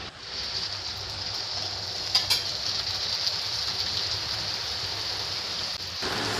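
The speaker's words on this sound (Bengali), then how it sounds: "এই দেখো গ্যাসে একটা কড়াই বসিয়ে তেল গরম করে আমি লুচি ভাজা শুরু করে দিয়েছি।" Luchi frying in hot oil in a wok on a gas stove, a continuous soft crackling sizzle with a faint clatter partway through, steady and close.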